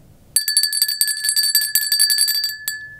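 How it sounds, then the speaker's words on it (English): A bright bell rings in a rapid, continuous flurry of metallic strikes, loud and close, then stops after a few seconds before one last stroke; no one speaks. "every time a bell rings, an angel gets his wings"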